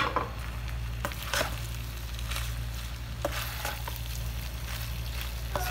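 Fried chips being added to a pan and mixed for chicken macaroni over a low flame, with soft sizzling and scattered scraping stirs and clinks over a steady low hum.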